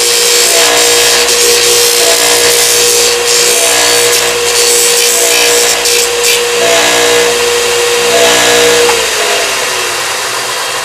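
A Martin 000-28 acoustic guitar's bridge saddle ground down on a power grinder, a loud continuous close whine with a steady motor hum and slight pitch drop toward the end.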